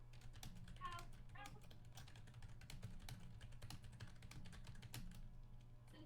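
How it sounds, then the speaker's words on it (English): Rapid clicking keystrokes on a computer keyboard patter steadily and faintly over a low hum, with no voices. "Oh, there's typing going on."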